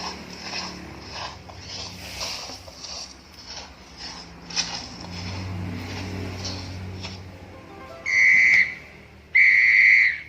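Two sharp, shrill whistle blasts ring out near the end, loud and close, following quieter scattered rustles and footsteps.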